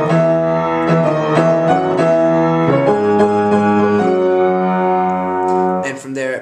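Both hands play the opening of a song on piano: steady sustained chords with a moving melody on top, close and even in volume, ending with a short pause.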